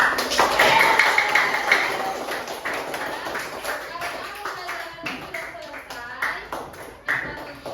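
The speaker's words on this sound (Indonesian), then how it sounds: "Tepuk tangan dulu semuanya" Schoolchildren in a primary school classroom clap their hands in loose, uneven bursts, with chatter and voices running through and under the clapping.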